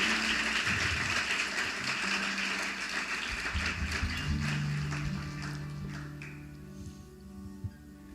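Church congregation clapping together after a prayer, a dense, loud wash of many hands that slowly thins and fades toward the end, with a low murmur and some sustained tones beneath.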